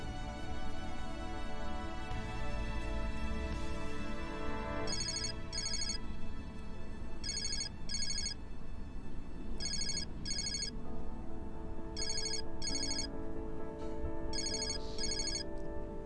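A mobile phone ringtone sounds repeatedly while the call goes unanswered: a bright, steady electronic melody in regular paired bursts over continuous background sound, with no talking.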